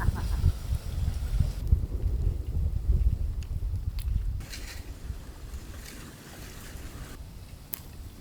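Strong wind gusting outdoors in a village where a cooking fire is being tended, a loud rumbling buffeting that is heavy at first and then eases, with a few faint clicks and knocks and no clear voices.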